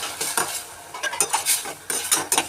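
Chicken gravy base with curd just added, sautéing in a pan: soft steady sizzle under repeated scraping and stirring strokes of a spoon against the pan, close and moderately loud, with no talking.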